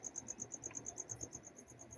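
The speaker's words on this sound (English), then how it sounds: "I'm gonna go check on the crickets." Crickets, roughly five hundred kept in a bait container at a Florida fishing bait shop, chirp in fast, even pulses that sound faint and steady with nothing else over them.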